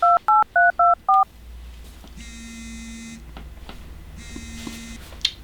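Five short, evenly spaced telephone keypad tones sound as a number is dialed, followed by a faint electronic buzzing hum.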